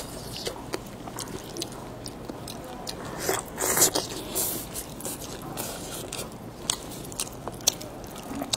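Close, quiet mukbang-style eating of Chinese food, with soft bites, wet chewing, squishing and occasional crunches repeating irregularly against a hushed background.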